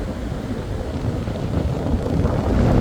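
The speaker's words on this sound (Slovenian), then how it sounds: "Jaz bi te valove lahko gledal ure in ure, čeprav piha k hudič." Strong wind buffets the microphone at a coastline as sea waves roll in, a loud continuous roar with churning surf beneath, building slightly toward the end.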